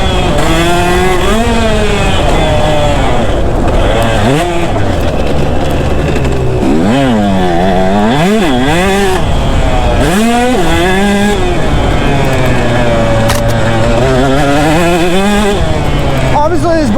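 A KTM 150 SX two-stroke dirt bike ridden on a dry track, its loud, close engine whining and buzzing as it revs up and down through the gears, with the pitch rising and falling for the whole stretch.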